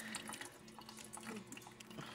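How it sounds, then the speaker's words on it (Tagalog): Water trickles and splashes softly as live moina are poured into clean water, a brief, quiet, close pouring sound with no voices. "isasalang muna natin siya sa malinis na tubig"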